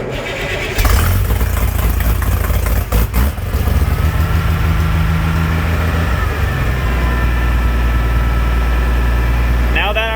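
An antique tractor engine fires up and runs with a loud, steady low rumble and chugging idle close by, with a brief stumble early on and a faint squeal at the very end.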